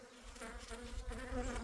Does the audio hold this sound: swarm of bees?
yes